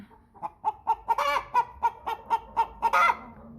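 American Bresse hen squawking loudly and close up, a rapid run of about a dozen sharp, evenly spaced squawks that rise to harsher cries near the middle and end.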